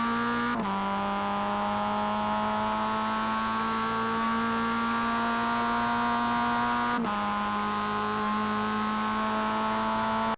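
A Mazda MX5 laps Laguna Seca in the iRacing simulator, its engine holding a steady, buzzing drone that climbs in pitch with two abrupt dips at gear shifts, continuous and close.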